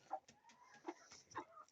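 A hen clucking near baby chicks: three separate soft clucks spaced about half a second apart, fairly close but quiet, with faint peeping and rustling between them.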